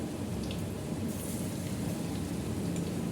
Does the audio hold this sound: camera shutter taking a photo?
no